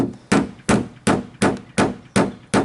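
A hammer does body work on a car around the side mirror. Seven sharp, evenly spaced metallic blows land close and loud, with nothing else heard.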